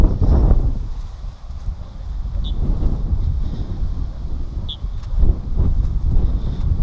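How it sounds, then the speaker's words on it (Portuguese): Strong wind gusting across an outdoor vegetable garden, a continuous loud rushing buffet against the microphone that rises and falls in waves without pause. "Muito vento na horta"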